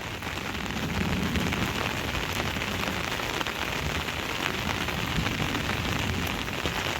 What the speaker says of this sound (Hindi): बारिश बड़ी तेज़ हो रही है